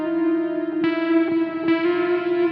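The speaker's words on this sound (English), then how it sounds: "never-ending notes with this reverb pedal" Electric guitar played through a reverb pedal, with long sustained notes ringing into a continuous wash, a few new plucks blooming every second or so over the lingering tail, with no voices.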